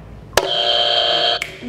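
A game show buzzer at a Family Feud-style event sounds once, a loud flat electronic drone lasting about a second after a sharp click, then cuts off.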